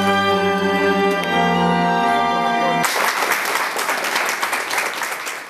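Audience applause follows a choir concert of classical and Turkish music. A sustained sung note rings out first, then dense, steady clapping breaks in and keeps going.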